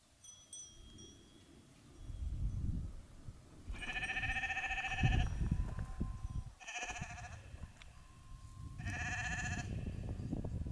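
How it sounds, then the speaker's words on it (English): Mountain goats on an alpine hike in the Zugspitzarena, with repeated tonal bell-like ringing from their bells and intermittent bleats over rustling, close ambient noise. "you will hear the bells of those mountain goats, and also hear them making their goat sounds"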